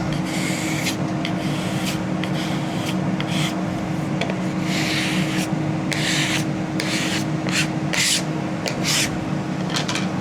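A squeegee rubs firmly over a laser-engraved plaque, giving repeated scraping strokes in short bursts over a constant low hum, close and fairly loud with no talking.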